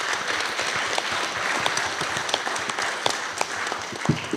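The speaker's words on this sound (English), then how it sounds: "How about a big round of applause for everybody?" An audience at a democracy summit workshop breaks into a full round of applause, with dense, continuous clapping for several seconds.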